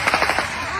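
Rapid bursts of gunfire crackle over a crowd of hungry people running at an aid point in Gaza, a quick run of sharp repeated shots in the first half, then fading under crowd noise.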